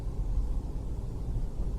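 Cabin of a 2013 VW Beetle TDI cruising at 60 mph in sixth gear around 1,700 rpm, with an open cabin and big sunroof: a steady broadband road and wind rush over low rumble, no talking.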